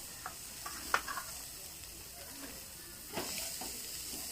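Prawns and seafood frying on a braai, a soft steady sizzle with a few faint clicks and scrapes, quiet and close, no voices.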